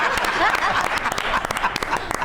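Audience applause at a Pakistani comedy TV show set, dense clapping with mixed crowd noise and a voice talking over it, fairly loud and sustained.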